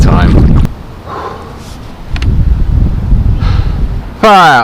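Strong wind buffets the microphone out on Lake Kurwongbah while bass fishing. Loud, rumbling gusts come and go, broken by brief quieter moments, and a voice cuts in at the end.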